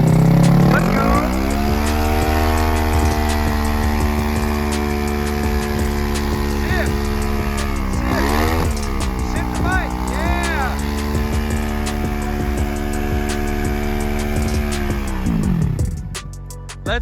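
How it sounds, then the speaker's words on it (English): A Yamaha R1 motorcycle does a burnout in a parking lot, its engine screaming near 10,000 RPM in a long sustained rev with a brief dip midway before cutting off, loud and close, with voices of onlookers mixed in. "This man Karsten's gonna do his first burnout ever."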